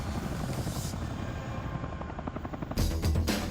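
A helicopter flies overhead with a steady, heavy rotor thump and engine roar that swells louder toward the end, with no voices.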